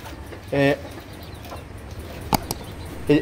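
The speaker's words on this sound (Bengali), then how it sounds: "এই ফার্মি মুরগির বাচ্চাগুলো খুবই প্রাণবন্ত এবং তারা খুবই চঞ্চল।" A couple of short, bright Fayoumi chick peeps, one early and one at the very end, with a sharp click between over a low steady background hum.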